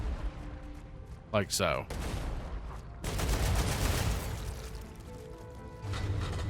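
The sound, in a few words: gunfire shooting blue objects around generator in StarRupture video game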